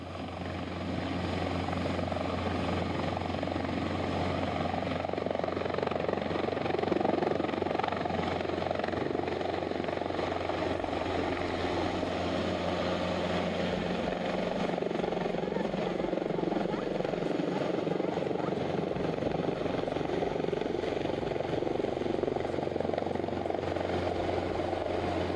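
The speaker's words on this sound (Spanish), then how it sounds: "podemos ver a los aldeanos reunidos, observando cómo los helicópteros se llevan a los 3 trabajadores." Helicopters fly over a village, their rotor thump and engine roar loud and continuous throughout, with voices talking beneath the steady drone.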